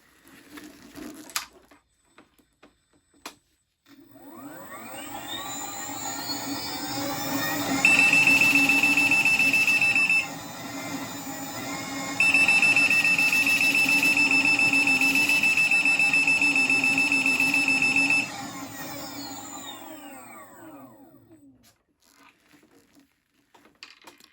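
A fully charged, unmodified Veteran Abrams electric unicycle spins its wheel freely. The motor whine rises and holds at a steady high pitch, with a continuous alarm beep over the top, then winds back down.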